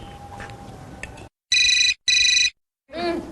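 A telephone rings in a home sitcom scene, two loud electronic trilling bursts separated by a short gap, with faint talk before and a voice starting right after.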